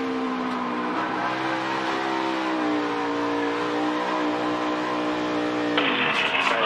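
A NASCAR Cup Series race car engine held at full throttle near 160 mph during a save, a loud sustained high-pitched roar with steady harmonics, shifting slightly in pitch, briefly joined by a sharper hiss near the end.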